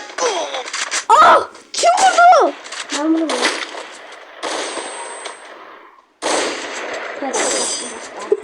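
Rapid bursts of video game gunfire crackle in loud clusters, broken by short pauses and a brief near-silent gap, with players talking throughout.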